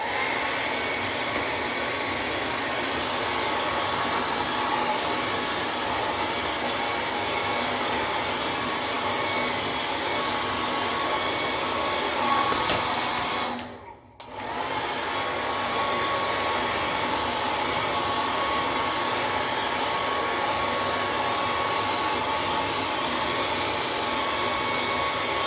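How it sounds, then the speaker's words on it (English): A hair dryer blows steadily while drying a beard, a loud, close, continuous whoosh that cuts out for a moment partway through and then resumes at the same level. "the reason we blow dry is to keep it as straight as possible"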